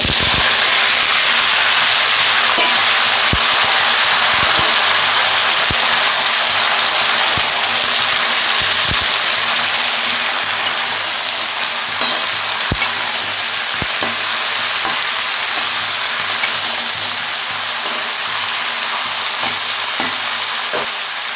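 Spices and mixed winter vegetables with spinach sizzle loudly and steadily in hot oil, a dense continuous frying hiss with occasional sharp pops and crackles throughout.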